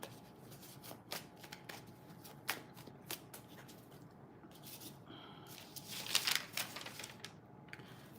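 Tarot cards being shuffled for a reading, with soft riffling and patting of the deck in scattered bursts, a longer flurry toward the end, quiet and close.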